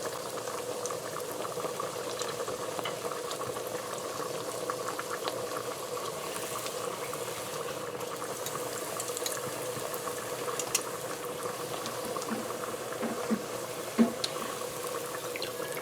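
Doubles flatbread dough frying in hot oil, a steady bubbling, crackling hiss that runs evenly for about sixteen seconds with a couple of small pops near the end and no voices.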